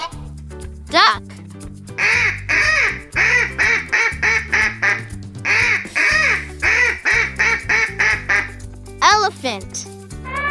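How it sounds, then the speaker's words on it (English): A duck quacks in a quick string of about a dozen loud, close calls, set over a steady musical backing with brief vocal sounds at the start and end. "Duck."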